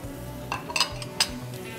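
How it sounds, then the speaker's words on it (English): Butter heats in a skillet, a soft sizzle under several sharp metallic clinks of a utensil against the pan, close and without talk. "So we're going to start with a little bit of butter in the skillet."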